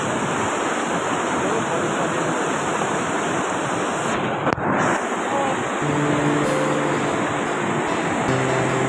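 Water rushing steadily across a flooded spot near Akhuapada in Odisha, a continuous broadband wash like surf or a weir, loud and unbroken with some wind buffeting on the microphone and a brief knock midway.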